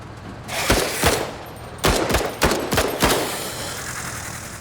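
Gunfire in the tactical video game Menace, with several heavy shots and short volleys rolling out in clusters over a few seconds, loud and booming with reverberant tails.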